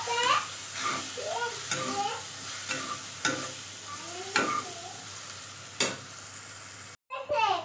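Turmeric and coriander powder stirred into pasta frying in a pan, with repeated scraping spoon strokes over a continuous sizzle, and a voice talking over the cooking for most of the time.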